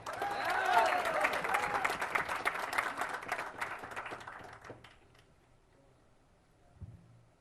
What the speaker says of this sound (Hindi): दोस्तों, आप लोगों ने जितना मेरे लिए तालियां बजाई